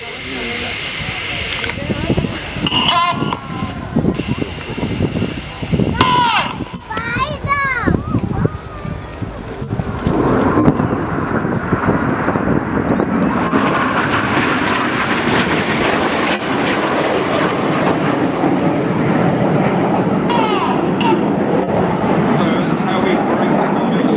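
Red Arrows jet aircraft at the Leuchars Airshow 2011, a loud roaring jet pass building and sustaining after crowd noise and a commentator's voice, the engine roar swelling and holding strongly to the end.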